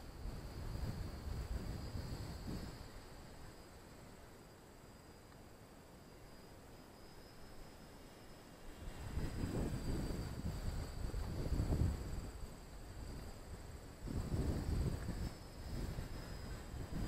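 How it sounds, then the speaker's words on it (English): Wind buffets a microphone at a model airplane field where an 800mm T-28 Trojan is flying, making a low, rushing rumble that rises in gusts and falls back throughout, with no voices. "That's windy."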